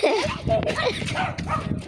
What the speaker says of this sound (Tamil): அங்கே பார்த்தீங்களா எங்களை பார்த்து குலைக்குது